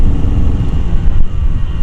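A Yamaha RX King motorcycle engine under way on a road in Makassar gives a steady low rumble and drone with a slight dip partway through. No one speaks over it.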